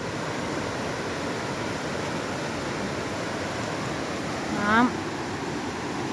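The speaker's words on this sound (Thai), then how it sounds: "โอ้โหน้ำเยอะจังเลย" Rushing flash flood water roars as a dense, steady broadband wash close by, with a brief voice rising over it near the end.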